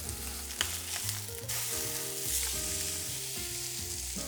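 Ribeye beef browning in a hot pan for garlicky beef pho, a loud continuous sizzle with sharp spitting and some scraping, close by with no voices.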